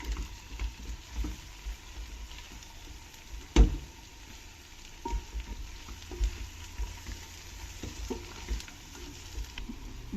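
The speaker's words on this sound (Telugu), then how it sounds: "ఇప్పుడు బాగా కలుపుకోవాలి." Millet biryani ingredients, including paneer, frying in a pan while being stirred, with a steady close sizzle and irregular scraping stir strokes, one sharper knock partway through, and no talking.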